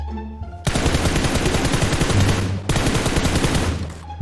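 Loud, sustained automatic gunfire from a video game, a rapid stream of shots that breaks off briefly and then resumes in a second long burst, close and dominant in the mix.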